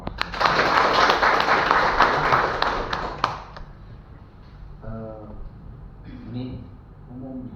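Applause breaks out for a school principal at a school gathering, a dense burst of clapping for about three seconds that then fades out, followed by voices talking.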